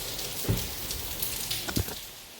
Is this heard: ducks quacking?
no